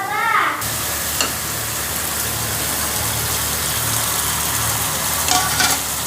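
Fish frying with spices in a hot pan, giving a steady, loud sizzle that fills the clip, with a brief lower clatter at the start and a couple of faint knocks.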